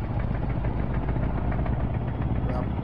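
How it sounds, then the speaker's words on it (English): Heavy truck engine in Euro Truck Simulator 2 idles and runs with a steady, loud, low rumble and rhythmic knocking vibration, continuous and close, with a voice talking over it. "You can hear me okay over this engine, because this sounds pretty freaking loud to me."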